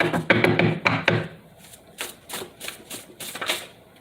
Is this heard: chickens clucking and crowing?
no